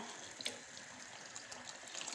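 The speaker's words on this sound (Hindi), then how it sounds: "अब इसमें हम पानी डाल देंगे जिसमें हमने चने बॉईल किए थे, वही हम इसमें डालेंगे।" Chickpea cooking water poured into a pot for Lahori chikar cholay, a faint continuous splashing trickle close by with no talking.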